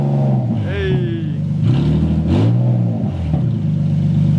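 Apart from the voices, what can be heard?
Infiniti G37 engine revving with budget exhaust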